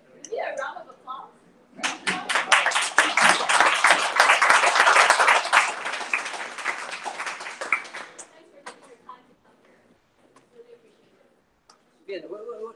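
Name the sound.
audience applause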